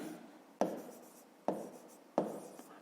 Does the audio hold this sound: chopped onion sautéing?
no